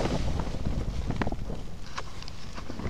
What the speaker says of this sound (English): So that last really big gust